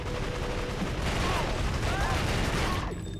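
Dense, continuous gunfire from a PS2 shooter video game, a harsh, loud wall of rapid shots and explosions with little gap, a voice faintly mixed underneath, ending with a sudden cutoff.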